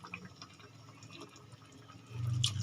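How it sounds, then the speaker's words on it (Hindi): Water poured into a pot of oil-fried potatoes for mutton aloo gosht, a soft trickle and splash building to a louder gush near the end, close by. "अब मैं इसके अंदर तकरीबन आधा लीटर पानी का डालूंगी।"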